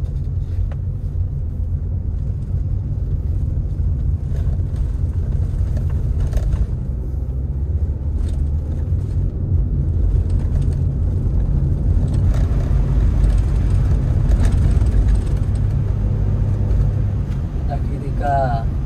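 A car pulls away and shifts up through first, second and third gear on an Indonesian road, a steady low engine rumble and road noise inside the cabin, with someone talking over it throughout.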